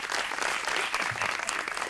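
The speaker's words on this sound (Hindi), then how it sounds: "आप लोगों की भरपूर तालियों में एक दफा फिर जुगन काजिम" A television studio audience applauds Juggun Kazim, a steady burst of clapping filling the room at moderate volume, brief and continuous.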